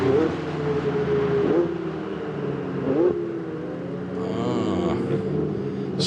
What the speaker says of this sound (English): So cars making their way back into the pit lane now.